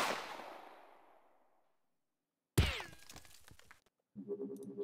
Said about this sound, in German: Zwei Schüsse geben. Der ging ziemlich daneben.